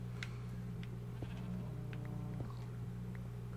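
A sheep bleats a few times in the Minecraft video game, brief wavering calls over a steady low hum from the game, fairly quiet overall.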